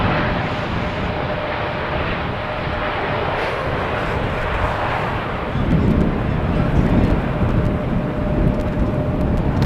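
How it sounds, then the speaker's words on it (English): An airplane lands in a crosswind on runway 18R at Amsterdam Schiphol, heard as a broad, steady jet roar that swells louder partway through as the aircraft rolls down the runway. "another airplane keeping up the speed, making sure to vacate the runway in time"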